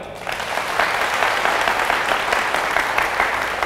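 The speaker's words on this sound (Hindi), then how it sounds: "अब ताली बजाओ।" A church congregation bursts into sustained applause, many hands clapping in a dense, steady roar that stays even and loud throughout.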